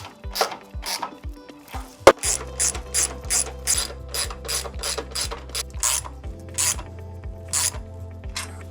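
Ratchet tool tightening parts during assembly of an Ikonix KS 335 A cylinder-bed lockstitch sewing machine, with a rapid series of loud, close ratcheting clicks in steady back-and-forth strokes.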